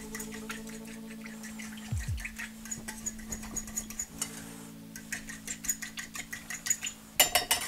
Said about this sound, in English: This is just a fork. We're going to go through and break up those large clumps